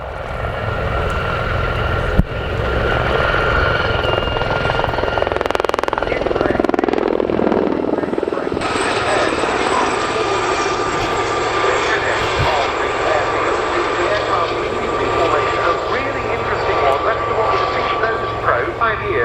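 Sud Aviation Gazelle helicopters fly a display at the RAF Cosford Airshow 2024, their loud, steady rotor and turbine roar filling the air as a commentator speaks over the public address.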